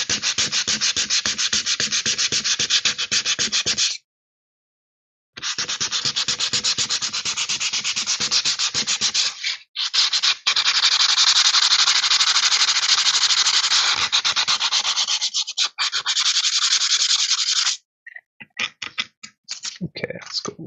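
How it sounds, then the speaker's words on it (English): Steady, scratchy rubbing of sandpaper over a plastic guitar pickguard, in long strokes with a couple of short pauses and lighter strokes at the end. "the more sanding I do, the more potential damage I do to the plastic"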